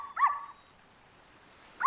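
A cartoon dog gives a short, high whimpering yip, then falls quiet before another sharp yelp starts at the end, both close and clear with no talk.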